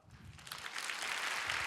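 Thunderous applause from a church congregation at a Friday prayer service, a dense wash of clapping that swells over the first half second and then holds steady and full.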